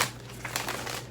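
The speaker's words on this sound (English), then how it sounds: "I'm going to give them a few shuffles." A deck of tarot cards is shuffled briefly, a quick burst of crisp papery riffling and rustling up close, with no voices.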